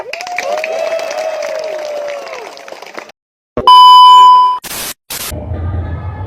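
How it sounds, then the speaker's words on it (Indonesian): Workers at a meeting about a strike clap together in a loud burst that lasts a few seconds, then cuts off abruptly and is followed by a sharp electronic tone and static noise. "Tepuk tangan dulu."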